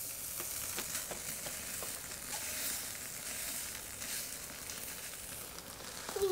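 Wagyu beef cooking on a charcoal mangal grill without added oil, flipped midway: a continuous close sizzle and crackle of fat with a few light clicks, ending in a brief louder clatter.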